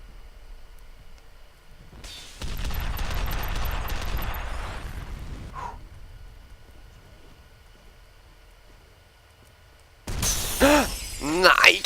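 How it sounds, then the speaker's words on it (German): Enemy gunfire in the shooter F.E.A.R. comes as a long sustained rattling burst with crackling impacts, followed after a pause by another loud burst, while a player talks over the action. "er schießt auf mich."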